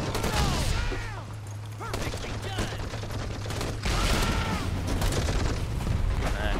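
Squad gunfire rattles in the Call to Arms war game, dense overlapping bursts and explosions with a steady engine hum underneath and some whistling effects.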